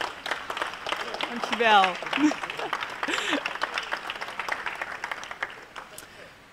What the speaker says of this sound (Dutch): Mag ik 1 keer een hartelijk applaus?